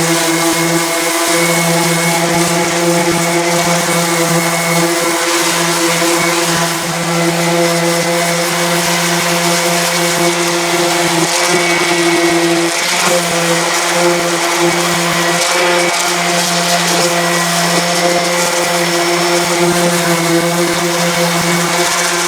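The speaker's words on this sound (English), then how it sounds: "between the DA sander and a red scotch brite pad, I've got most of the loose stuff off" A dual-action sander runs continuously over rusty metal after spray-in bedliner removal, a steady loud whirring drone with strong tonal hum that holds without pause for the whole stretch.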